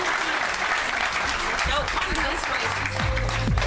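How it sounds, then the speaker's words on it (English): Audience clapping at a warehouse ribbon cutting and grand opening, a steady dense wash of applause mixed with voices and crowd noise, with a few louder low thumps near the end. "Clap it up for him one more time."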